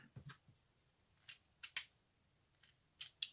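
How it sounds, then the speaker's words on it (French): Pinking shears snip the edges of paper or fabric, a handful of crisp, close, separate cutting clicks scattered across quiet pauses. "Moi, je coupe toujours les bords avec un ciseau cranteur."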